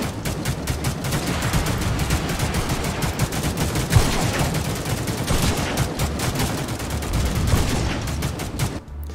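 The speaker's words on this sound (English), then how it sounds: "Oh, I got sniped." Gunfire in a shooting video game rattles almost without a break: rapid, loud, closely spaced shots run through the whole stretch with no talking.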